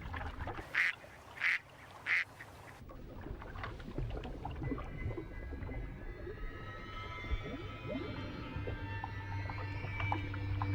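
Ducks on open water where an anaconda hunts give three loud, evenly spaced quacks in the first seconds, then a steady wash of water and wild ambience carries on with no calls.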